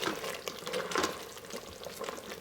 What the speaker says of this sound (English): Give it a gentle stir and let it simmer.